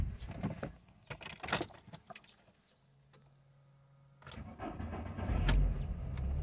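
A VW Golf IV Cabrio that sat outside all night is cold-started: a low steady crank hum, then the engine catches with a sudden loud rumble that settles into a close, throaty idle, preceded by a few clicks and knocks.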